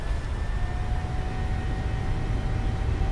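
Steady, loud roar of a PMDG 737-800's jet engines at takeoff thrust in Microsoft Flight Simulator 2020, a continuous dense rumble with a faint high whine, no voices.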